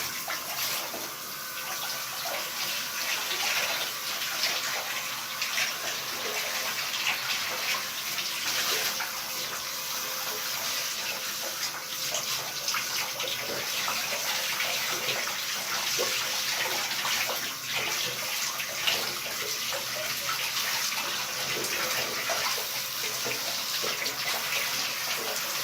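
Water runs steadily into a slow-draining bathtub, a continuous loud rushing splash that stays even throughout with no talking.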